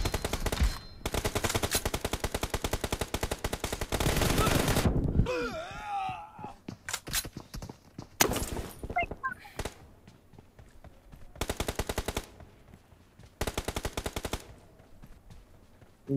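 Shooter video game gunfire: several long, loud automatic bursts of rapid shots separated by quieter stretches with game effects and voices talking in between.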